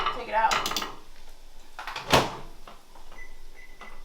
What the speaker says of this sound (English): we're gonna stir the rice and put that on another 5 minutes